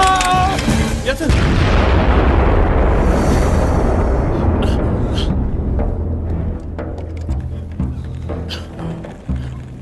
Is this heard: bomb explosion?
yes